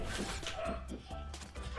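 A dog in the video game Crash Bandicoot 2 from the N. Sane Trilogy gives a few quick yipping barks over busy game music and effects.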